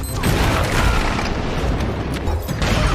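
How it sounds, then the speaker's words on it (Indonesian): A landmine detonates in a war film, producing a sustained, heavy, rumbling blast that fills the whole stretch with dense low booming and crackle, loud throughout with no voices. "Lalu Andre meledakkan ranjau yang telah mereka pasang."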